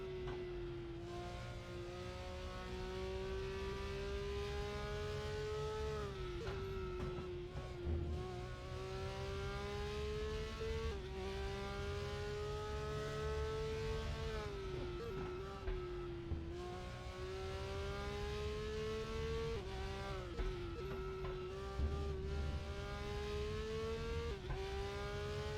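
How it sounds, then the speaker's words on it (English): Race car engines in the RaceRoom racing game at Brands Hatch GP, a loud sustained high-revving drone that climbs through the gears with repeated sharp downshift dips, continuous and close with no talk. "Letting you enjoy the sounds of Race Room, which is the award-winning sound engine of the game."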